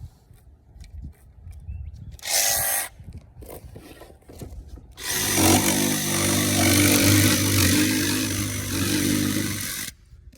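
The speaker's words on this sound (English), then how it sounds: "DCS334. Jigsaw, love it. Has very good speeds." A DeWalt DCS334 cordless jigsaw cuts into material on a workbench, a loud, steady buzzing run of about five seconds after a short earlier burst, with quieter handling noises between.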